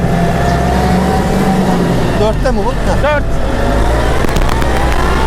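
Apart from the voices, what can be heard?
Kubota MK5000 tractor engine revving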